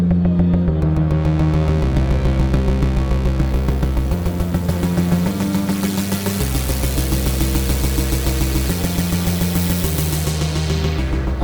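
A deep, buzzy FM synth bass from an Elektron Digitone plays a repeating stepped pattern with feedback, its notes shifting pitch every second or so, with a gritty metallic edge throughout.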